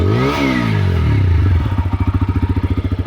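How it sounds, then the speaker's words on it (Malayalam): A TVS Apache RTR 160 4V motorcycle exhaust revved at full throttle, a loud, close engine roar that rises and falls, then settles into a rapid, pulsing idle-like throb. "സോ ഇതാണ് വണ്ടിയുടെ എക്സോസ്റ്റ്."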